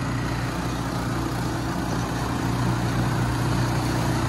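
A small vehicle engine runs steadily like a lawnmower, a continuous buzzing drone with a low harmonic hum, close and fairly loud, with no speech over it.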